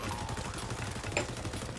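Continuous MP7 submachine gun fire from the XDefiant video game, a dense rattling burst holding steady at moderate loudness with one slightly sharper shot near the middle, no talking.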